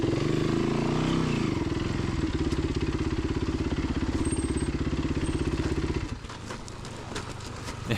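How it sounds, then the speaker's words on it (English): A dirt motorcycle heads down a steep slope in Johnson Valley, its engine throbbing loudly and steadily with a low pulsing note before easing off near the end, leaving quieter clatter and rustle. "Vince, so good about being up on the pegs and riding the bike down"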